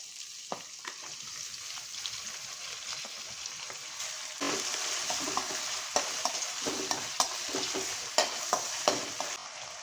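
Washed vegetables for soya pulao fry and sizzle steadily in a pan, with repeated sharp scraping and clinking as they are stirred, close and without talk.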